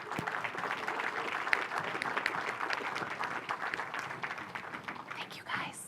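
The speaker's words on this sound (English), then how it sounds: "let's give our second group of speakers a round of applause as they enter the stage." Audience at a community chamber of commerce event applauding as speakers walk onto the stage, a sustained patter of many hands at moderate distance with murmured voices mixed in.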